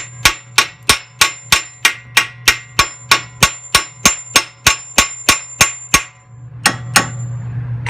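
A hammer strikes the lower ball joint of a 2004 Mitsubishi Endeavor in a steady run of about twenty loud, ringing metallic taps, then a short pause and two final blows over a low hum.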